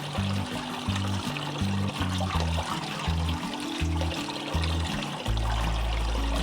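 Tap water runs steadily into a sieve while ajwain seeds are rinsed, a continuous splashing rush that stays close and even throughout. Low rhythmic background music plays underneath.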